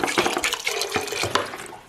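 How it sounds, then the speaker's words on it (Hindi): Water pours into a pot of soaked chickpeas, a steady splashing, gurgling stream up close with no talk over it. "तो पानी इतना डालना कि जिसमें छोले अच्छी तरह से डूब जाए।"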